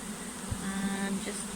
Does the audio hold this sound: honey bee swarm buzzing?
yes